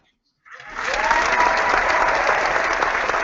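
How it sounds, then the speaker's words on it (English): Live studio audience at a collecting-themed show bursts into applause for invited guests. The clapping starts abruptly after a brief silence and stays loud and dense throughout, mixed with some crowd noise. "Kahuna, can I get a round of applause for my friends"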